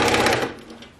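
A sewing machine backstitches along quilt binding in a short rapid burst of stitching that fades within a second.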